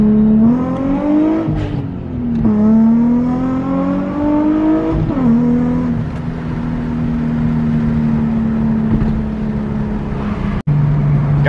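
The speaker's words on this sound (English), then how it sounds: "I grinded second gear really bad." A Nissan 350Z accelerates hard, its engine note climbing in loud, close rising sweeps broken by quick gear changes, one of them a harsh second-gear grind, before settling into a steady drone.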